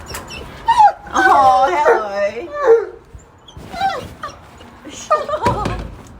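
An excited puppy whimpers and whines in rising, wavering cries with a few short yips, close by, mixed with people talking.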